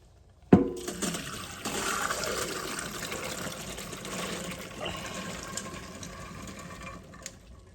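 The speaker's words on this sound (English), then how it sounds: "I'm going to drain the beans." Water pours and splashes steadily through a colander as soaked red beans drain after a sudden start, a continuous rushing drain lasting several seconds at close range.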